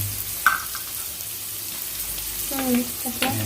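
Curry leaves and green chillies hitting hot oil in a pan for lemon rice give a steady soft sizzle and crackle with a few brief clanks. Voices speak over it.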